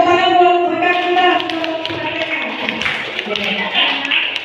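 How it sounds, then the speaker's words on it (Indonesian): A group applauds a colleague in a classroom-style gathering, with a brief spoken line at the start giving way to several seconds of close, lively clapping. "Tepuk tangan buat rekan kita."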